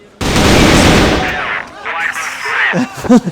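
Desert Eagle fire in a competitive shooter video game, a loud burst of gunshots followed by smaller crackles, under excited esports commentary.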